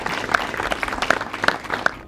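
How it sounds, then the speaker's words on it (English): Audience at a club awards gathering applauding, a brief patch of scattered clapping with a few sharp individual claps standing out. "Certainly give yourselves a massive round of applause for that."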